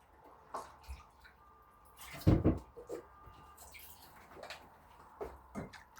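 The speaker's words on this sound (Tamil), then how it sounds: "கொஞ்சம் தண்ணியோடு ஆட் பண்ணிவிட்டு ஊற்றிக்கிறோம் இந்த ஜாரில்." Rasam powder mixed with water pours into a jar in a home kitchen, a short liquid gush in the middle surrounded by scattered drips, clinks and handling knocks, quiet and close with no talking.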